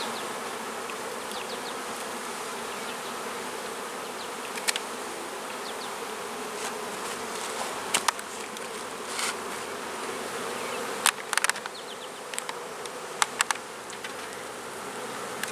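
Honey bees buzz steadily around a hive frame of honey, nectar and pollen, making a dense, close, continuous drone with occasional sharp clicks and knocks.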